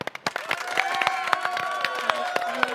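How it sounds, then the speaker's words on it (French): A crowd at the Paris Games Week gaming expo applauds for Nana, scattered claps building into steady dense clapping with light cheering and voices mixed in. "Applaudissements pour Nana."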